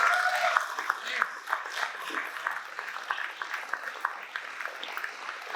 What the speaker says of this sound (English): Let's do one more round of applause for Kohl.